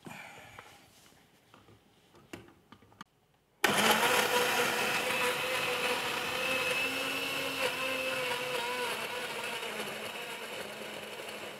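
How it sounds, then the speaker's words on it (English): A kitchen blender purees red onions, tomatoes and freshly grated ginger for a baby's first food, starting after a few quiet clicks and then whirring loudly and steadily at close range, alone. "We'll blend it all up."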